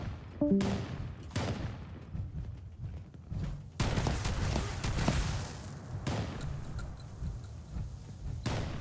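Airstrikes land in the video game Fallout 76: a run of heavy, booming explosions and thuds arrives in irregular bursts over a continuous rumbling wash of battle noise, loud and dense throughout with no pauses.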